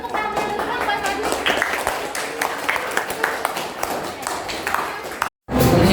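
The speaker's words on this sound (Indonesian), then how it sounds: "Tepuk tangan dulu dong, Pak Fadli." Classroom applause for a student who has just presented: dense, steady clapping from many hands fills the room at close range. The clapping cuts out abruptly near the end and then resumes.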